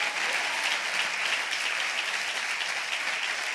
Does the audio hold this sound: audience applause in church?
yes